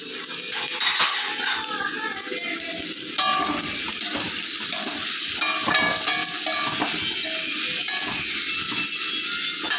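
Green chilies sautéing in a hot pan, giving a steady bright sizzle and crackle throughout with occasional clinks of a utensil stirring against the pan.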